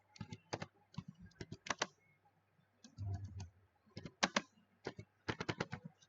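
Typing a command on a computer keyboard: quick, close bursts of crisp key clicks in uneven runs, with one short pause and a soft thud partway through, and no talking.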